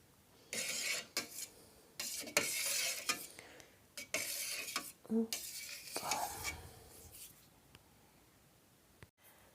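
Scraping and clinking of a utensil slicing cow's-milk cheese curd into roughly one-centimetre cubes in a metal pot, in uneven strokes with brief pauses, close and fairly quiet.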